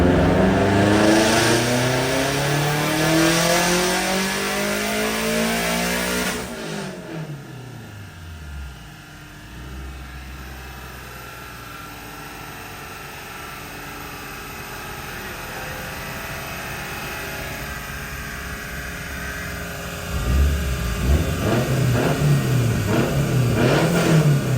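Turbocharged Scion FR-S on a dyno, the engine climbing through a long full-throttle pull with rising harmonics, then dropping to a lower drone before revving hard again near the end; loud and close with no talk.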